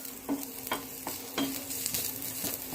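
Onion frying in a pan makes a continuous sizzle, broken by regular spatula scrapes about every half second. Close and clear, with no talk.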